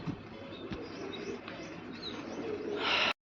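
Pet pigeons cooing, soft repeated coos and faint chirps close by against a steady background hum, ending in a brief louder rustle before cutting off.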